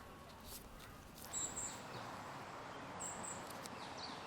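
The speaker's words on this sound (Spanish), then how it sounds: "El canto de los pájaros inunda el pulmón de Santa Cruz." Birds chirp in García Sanabria Park in Santa Cruz de Tenerife, an emptied city during lockdown: a few faint, high repeated calls in the distance over a soft steady hush of background noise.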